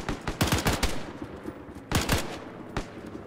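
Several bursts of rifle and machine-gun fire crack out in Arma 3, a tight rapid cluster early on, then another volley and a lone final shot, sharp and fairly close.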